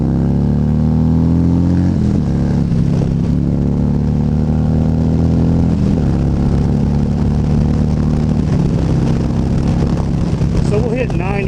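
A new motorcycle's engine roars loud and steady throughout, building under acceleration with rising harmonic tones, while wind buffets constantly over the ride.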